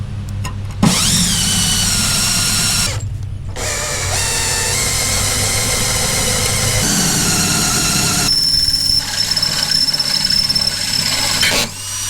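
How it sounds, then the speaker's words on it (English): Power drill boring four holes through the metal of a rotten 48-inch John Deere D140 lawn tractor mower deck during repair, a loud steady whine broken by short pauses between holes, close and without talk. "Now what's left is to drill 4 holes to accommodate this"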